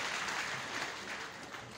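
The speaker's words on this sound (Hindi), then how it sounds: "जोरदार तालियां आनी चाहिए" A crowd claps loudly and steadily at a lucky-draw prize giveaway, dense continuous applause from start to finish with no voices breaking through.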